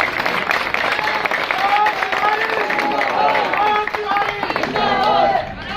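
An outdoor election campaign crowd claps steadily and loudly for a candidate, with cheering voices and chatter mixed into the continuous applause throughout.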